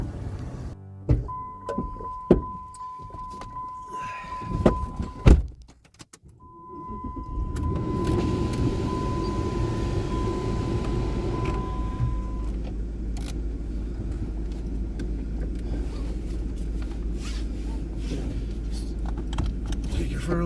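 A Ram HEMI pickup truck before a test drive: keys jangle, a door thuds shut and a steady chime sounds, then the engine starts and settles into a loud, even idle that runs to the end.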